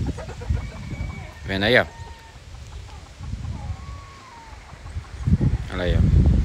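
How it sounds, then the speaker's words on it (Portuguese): Chickens cluck and a rooster calls from a farm coop in the countryside, with bursts of bird noise rising between stretches of nearby talking. "aqui é onde fica as galinhas"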